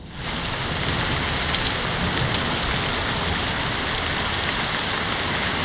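Heavy rain driven by strong winds on a stormy June day in Granby, Quebec, a loud unbroken hiss of pouring water that sets in within the first moment and holds steady.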